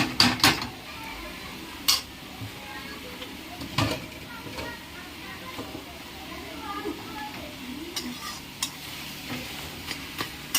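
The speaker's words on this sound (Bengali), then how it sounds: "শাক ভাজার খুব সুন্দর একটা স্যান্ড বেরিয়েছে" Red amaranth greens fry in a pan with a soft continuous sizzle broken by sharp spatula clinks and stirring scrapes, close by.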